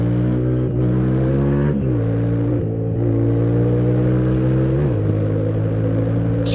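Yamaha Tenere 700 motorcycle engine revving loud and close through repeated accelerations, its pitch climbing then dropping at each gear shift, with a steady harmonic drone throughout.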